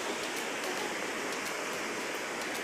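Amma Khola river flowing near Jalbire in Sindhupalchok, Nepal: a steady, close, broadband rush of water that holds unbroken and even throughout, with no voices over it.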